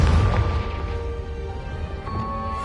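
A single deep boom from the Confringo explosive spell in Hogwarts Legacy, loud at the start and fading into a low rumbling decay.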